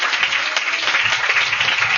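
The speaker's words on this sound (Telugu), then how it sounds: "మీ శక్తి కొలది ఇప్పుడు చప్పట్లు కొట్టి దేవుని అంటారు" A church congregation claps during Sunday worship, a dense, steady burst of applause from many hands filling the room.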